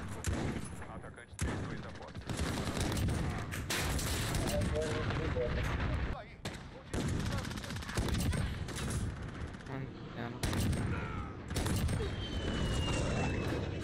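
Sniper rifle gunfire in a first-person shooter game, Barrett on a new map, with repeated loud shots and dense bursts of battle noise throughout, a player's voice talking over the action.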